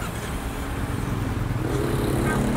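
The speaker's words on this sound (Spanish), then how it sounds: "voy a proceder a encendérselas para que la escuchen" A 2023 Kawasaki Versys-X 300 ABS motorcycle engine starts up close by, a steady rough idle rumble that swells slightly louder toward the end, with no talking.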